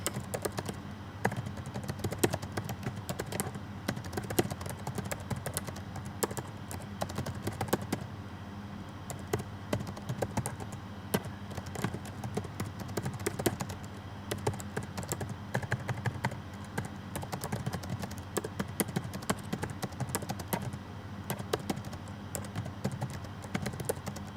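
Steady, rapid clicking of a computer keyboard being typed on continuously, close and fairly quiet, with no talking.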